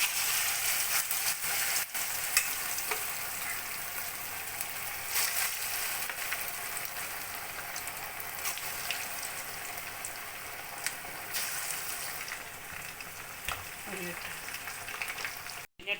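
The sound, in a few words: chicken 65 pieces frying in oil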